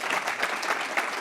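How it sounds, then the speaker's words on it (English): A luncheon crowd at a Seattle airport chamber event applauds, dense clapping filling the room at steady volume. "just want to give him a round of applause for filling in"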